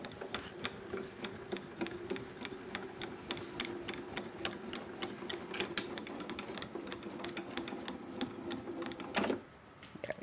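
An embossing machine runs with a tan mat and pink plate, giving a fast, steady mechanical clicking rattle that stops abruptly near the end. It is quiet and close.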